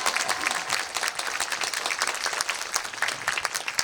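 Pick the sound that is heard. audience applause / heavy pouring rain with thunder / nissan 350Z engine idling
audience applause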